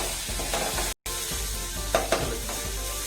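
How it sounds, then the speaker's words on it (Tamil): Ingredients with chili powder and salt sautéing in a pan give a steady close sizzle with scraping stirs, briefly cut out near the start, and no talking. "நல்லா பச்சை வாசனை போகிற அளவுக்கு வதக்கணும்."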